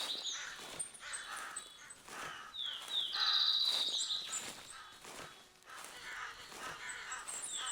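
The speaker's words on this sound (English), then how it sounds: "These crows can be a bit annoying." Crows caw loudly and insistently in the hunting video game theHunter Classic, their harsh calls overlapping in a near-continuous chorus over a soft outdoor ambience with faint footsteps.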